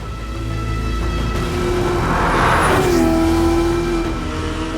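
A Lamborghini Murcielago LP670-4 SV's naturally aspirated V12 runs loud and steady with a rich, sustained drone, its pitch rising and falling slightly as it revs, with no voices over it.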